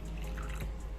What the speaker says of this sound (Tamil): இப்போ ஒரு பவுலில் கொஞ்சமாக தண்ணி ஆட் பண்ணிக்கோங்க.